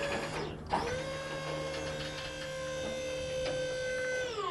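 A hydraulic pump tilts the deck of a 22-foot tilt deck trailer, a steady close electric whine that starts, holds level for several seconds and then stops, with faint background noise.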